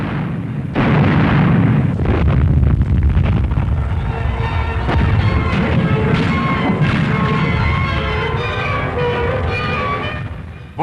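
Heavy, rumbling World War II artillery gunfire and booming blasts during a river crossing in Italy, loud and continuous, thick with repeated thuds and cracks.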